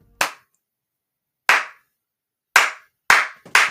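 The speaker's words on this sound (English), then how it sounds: "I'll give you that slow cinematic movie clap." One person claps slowly and deliberately, five sharp, close hand claps separated by long silent gaps, the last two coming closer together.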